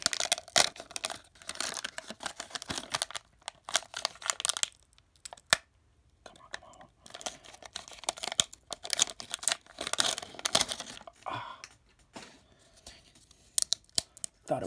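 The wax wrapper of a 1991/92 O-Pee-Chee hockey card pack crinkles and tears up close in bursts of crackling with short pauses between, and a voice talks faintly at times.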